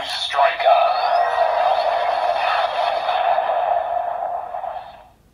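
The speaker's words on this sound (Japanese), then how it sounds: "1個目がブーストライカー音。" Electronic sound effect from a Kamen Rider Geats DX Boost Striker toy, a loud, bright, revving synthetic whoosh sustained for about five seconds before quickly cutting off, played alone and close.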